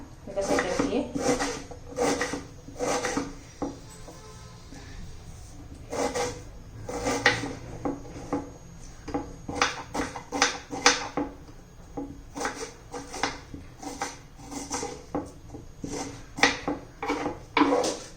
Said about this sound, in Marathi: एकदम बारीक चिरून घ्यायचा आहे आपल्याला कांदा